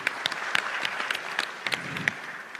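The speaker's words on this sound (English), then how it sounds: "A round of applause for Abdullah." Audience applause for a speaker at the Sahel Governance Forum, a steady patter of clapping with scattered louder claps that holds at moderate level for a couple of seconds, with no talking.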